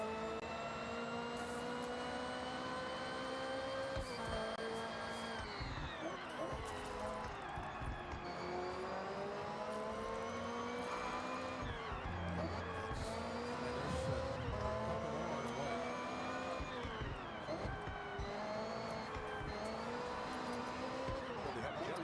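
Racing cars in a video game roar through a race, a steady dense engine drone with shifting pitch as cars overtake and collide, continuous and loud throughout.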